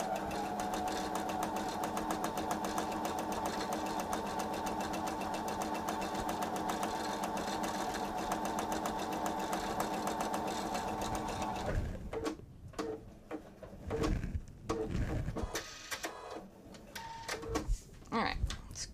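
A sewing machine stitches a quilted table runner in a steady, dense whir for about twelve seconds, then stops, leaving scattered handling clicks and rustles of fabric with some talk.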